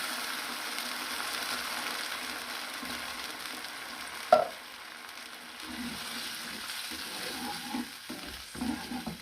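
Chopped tomatoes go into a pan of garlic sauce, setting off a soft, steady sizzle with faint stirring scrapes and one sharp clink partway through, quiet and close.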